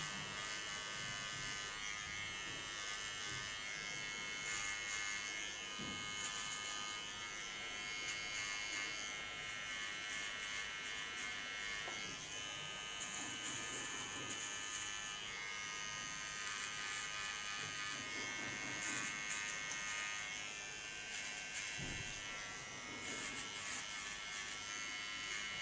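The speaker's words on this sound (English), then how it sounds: "Do this with a small clipper" A small electric hair clipper shaving the nape of a long-haired client, a steady close buzzing that runs without a break, with faint shifts as it moves over the neck.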